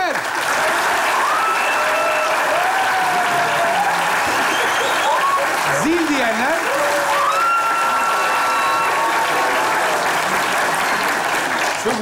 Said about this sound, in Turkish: Oha geldi böyle zillik bir alkış geldi